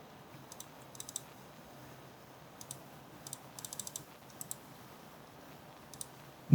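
Computer mouse clicks during design work: sparse, crisp clicks, single and in quick little clusters, close by over a quiet room, ending with a louder thump.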